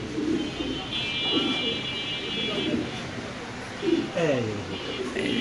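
Black beauty pigeons coo in low, rolling bursts through the clip, with a clearer descending coo near the end, mixed with other bird chirps and a steady high tone while someone talks over them.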